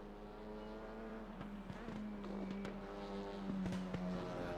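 A WTCR touring car in RaceRoom Racing Experience at Zandvoort, its engine giving a steady, noisy rattling buzz with a droning tonal whine throughout, moderately loud and continuous, with no talking.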